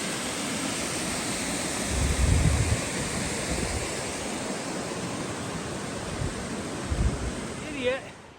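Steady rushing water fills the scene, a broad continuous roar with occasional low thumps and a faint voice near the end.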